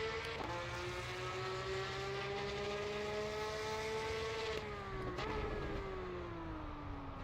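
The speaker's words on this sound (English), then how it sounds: "let's also listen to the car from the outside." A race car in the Assetto Corsa EVO video game, heard from outside while driving, gives a steady engine drone with clear harmonic tones that dip briefly at gear changes before climbing again, moderately loud with no talking.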